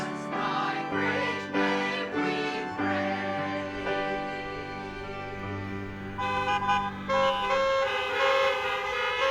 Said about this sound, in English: What does the honking mean?